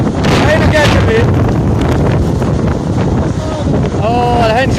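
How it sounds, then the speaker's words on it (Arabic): Strong storm wind roars loudly and steadily against the microphone outdoors, gusting throughout, while a voice calls out intermittently over the blustering noise. "والله ريح قوية"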